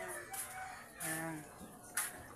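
Chickens cluck and squawk close by in a farmyard, several short calls overlapping with a rooster's crow, over a low outdoor background.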